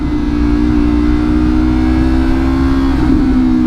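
A motorcycle engine drones steadily and loudly at close range, its pitch holding level before a brief dip near the end that suggests a downshift.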